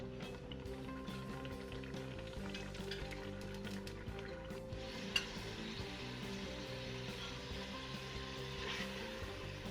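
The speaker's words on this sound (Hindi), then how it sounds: "हमारा मसाला भुन रहा है।" Masala roasting in ghee for a wadiyan curry, with a steady, close crackling sizzle that runs unbroken throughout and no talking.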